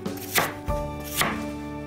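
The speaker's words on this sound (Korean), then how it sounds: "얇게 슬라이스 해주세요. 그리고 4등분 해주세요." A knife slices through peeled apples on a cutting board, a few crisp cutting strokes spaced about half a second apart, close and clear with no talk.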